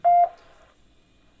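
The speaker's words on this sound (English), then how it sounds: "there was a courtesy beep and everything else" A single short electronic courtesy beep sounds from a radio just after keying up, clear and close, followed by a faint tail of noise and then quiet.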